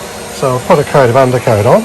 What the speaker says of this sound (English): Sorry about the noise from the vacuum cleaner